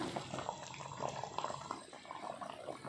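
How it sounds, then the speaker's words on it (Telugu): Fish curry simmers in a clay pot with a soft, continuous bubbling that stays low and even throughout, with no talk. "ఇంకా కొద్దిసేపు ఉడుకునిద్దాం చూద్దాము"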